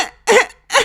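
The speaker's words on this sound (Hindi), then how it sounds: "खांसते हुए कहती है" A woman coughs twice, close and fairly loud, with two short bursts separated by a pause and no talking.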